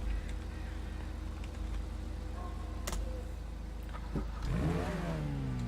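Itali GTO sports car in GTA: the engine hums low and steady, then near the end it revs hard, its pitch climbing sharply in a loud, close surge.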